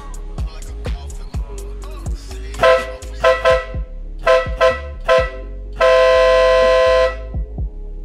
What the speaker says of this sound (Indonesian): Jadi klakson kapal ini suaranya kenceng banget ya